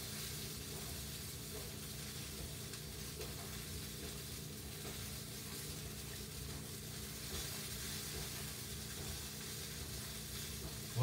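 Sausages sizzle steadily as they cook, giving a continuous, fairly faint frying hiss that holds even for the whole stretch with no talking.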